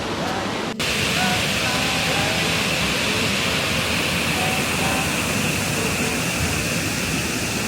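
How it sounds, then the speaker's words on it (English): A loud, continuous roar of rushing water from Gooseberry Falls in northern Minnesota fills the scene, steady and broadband with no pauses. "the water is just raging"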